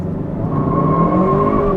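A 2023 Kia K5 GT sedan accelerates hard from launch control, its engine note rising steadily into a loud, close whirring rev that climbs in pitch across the clip.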